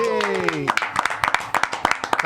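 Audience at an evening quiz show applauding a guest named Thomas: scattered, separate hand claps follow a brief sustained voiced tone, with talk-like sounds between the claps.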